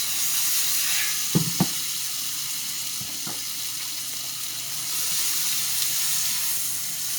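Pepper frying in butter in a pan gives a steady, close sizzling hiss, broken near the start by a couple of sharp clicks and knocks, with no talking.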